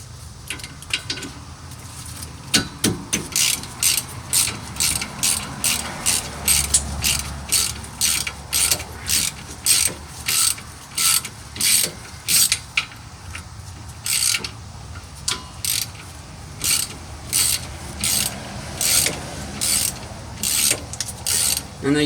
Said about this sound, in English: So these nuts are 13, so we'll just go ahead and get those off of there.